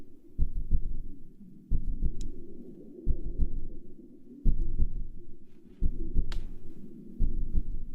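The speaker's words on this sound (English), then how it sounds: "Don't love the heartbeat thing." Slow, steady heartbeat thumps in a nature documentary, paired double beats repeating about every one and a half seconds, deep and prominent over a low ambient hum, with no voices.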